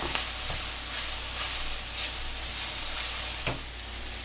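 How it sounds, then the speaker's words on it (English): Kale sizzles and fries steadily in a hot pan as it wilts, a constant loud hiss with a few soft stirring clicks and scrapes, and no talking. "I'm going to cook this down until this kale wilts"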